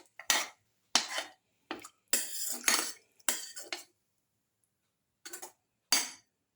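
Utensil scraping and clinking against a cooking pot as a garlic chicken noodle casserole mixture with added water is stirred, coming in several short bursts with pauses, close and fairly loud, with no voices.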